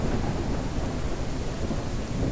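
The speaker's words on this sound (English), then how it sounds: "Yeah, it's probably a lightning bolt." Thunder rolls through a storm in the ranch simulation game Ranch Sim, a continuous loud rumble with rain hiss layered over it and no voices.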